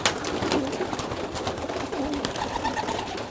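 Pigeons coo softly in a loft, low murmuring calls repeating under a busy background of scuffling and fluttering.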